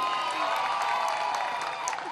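A concert crowd at a band's show claps and cheers for the drummer, a dense wash of applause with scattered whoops and some voices mixed in.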